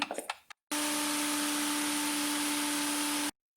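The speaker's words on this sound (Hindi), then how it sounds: "दाल को मैंने ब्लेंडर में डाल दिया है, अब मैं इसको पीस लूँगी।" A blender grinding lentils kicks in after a few brief knocks and runs loud and steady with a constant high whine, then cuts off abruptly.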